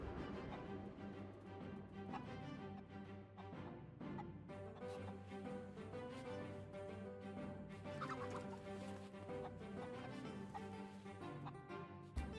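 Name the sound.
chickens clucking in the video game Sea of Thieves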